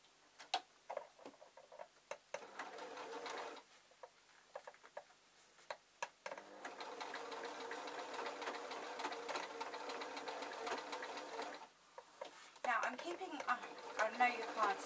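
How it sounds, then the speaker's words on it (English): A sewing machine stitches around the top of a glasses case with a magnetic clasp, its rapid mechanical chatter running in bursts with short pauses between, close and steady. "All I'm doing is very carefully sewing around the top here"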